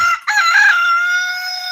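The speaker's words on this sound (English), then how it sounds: "there's a couple of roosters going at it" Two roosters in a garden yard crow loudly and sustainedly, a strained drawn-out cock-a-doodle-doo following a brief clucking burst, close and clear with no talk over it.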